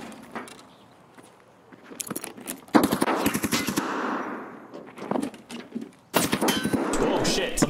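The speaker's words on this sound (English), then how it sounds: "somebody's shooting at me" Gunfire in the shooter game Escape From Tarkov: several loud bursts of rapid automatic shots, coming in clusters and separated by quieter gaps.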